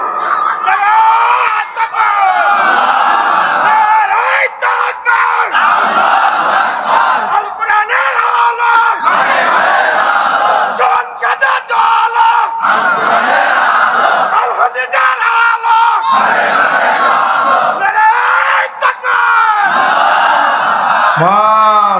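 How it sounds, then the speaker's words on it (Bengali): A large crowd at a Bangla religious sermon chanting slogans in unison, loud repeated call-and-response bursts with brief gaps between each chant, filling the space and echoing. "একজন যুবক স্লোগান দিবেন"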